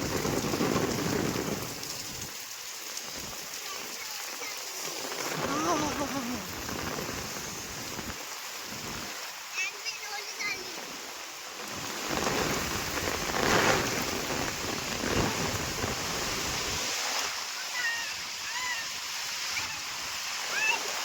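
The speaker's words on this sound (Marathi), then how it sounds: "कसा होणार पाऊस चालू तर." Heavy monsoon downpour with gusty wind in a Konkan village near Kankavli, Sindhudurg, a dense continuous roar of rain that swells and eases, with faint voices under it.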